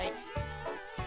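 Bees in the video game Conker's Bad Fur Day buzz in a rough, wavering drone that swells and dips in short pulses, fairly faint with no talk over it.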